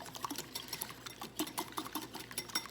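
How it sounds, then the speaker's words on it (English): Eggs for banana bread are beaten with a wire whisk in a bowl, giving quick rhythmic ticking and clinking strokes, close and moderately loud. "I'm going to use my whisk to just give this a quick little beat."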